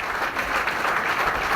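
Dense, steady applause from an audience welcoming a regional team controller onto the stage, continuous and close throughout.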